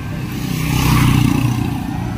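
Traffic roars past a roadside spot beside a highway where vehicles are parked, one loud pass swelling to a close peak and easing off under continuous road rumble.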